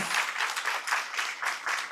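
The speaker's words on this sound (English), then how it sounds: "we got to clap for that" A short burst of applause, hands clapping in a dense, even patter from a small group.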